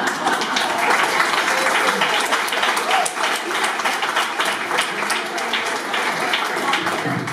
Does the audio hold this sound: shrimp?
no